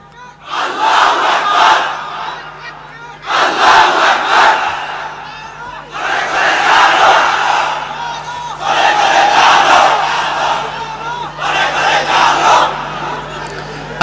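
Large crowd at an Islamic waz mahfil in Bangladesh chanting the takbir in unison, five loud surging calls in a steady repeated rhythm with short pauses between, over a constant low hum.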